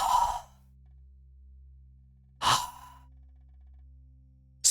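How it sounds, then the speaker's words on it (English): Spider breathing in The Elder Scrolls: Arena: two loud, breathy sigh-like exhalations about two seconds apart, with a short third one starting at the end, over a low steady hum. "the breathing noise that you're hearing right now"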